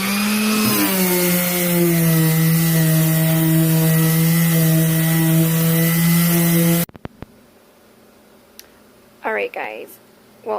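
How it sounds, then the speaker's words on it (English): A loud, steady power sander drones continuously on a wooden desk with a strong low hum for several seconds, then cuts off, leaving quiet room sound and a few brief voice bursts. "So we are going to start off by sanding it."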